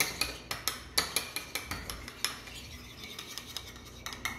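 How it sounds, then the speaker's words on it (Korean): A spoon stirs a soy sauce seasoning of sesame oil, chopped scallion, garlic, sesame seeds, pepper and sugar in a bowl. It makes a quick run of bright metallic clinks and scrapes against the bowl, close and steady, then slows slightly. No one speaks. "설탕 녹을 때까지 좀 섞어주시고"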